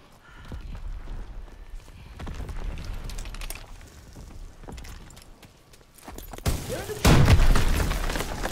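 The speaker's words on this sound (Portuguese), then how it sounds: "mandei-lhe uma bazucada na cara" Bazooka fired in the World War II shooter Call of Duty WWII, a sudden loud blast late in the sequence that swells into a broad roaring boom over earlier scattered gunfire and game noise.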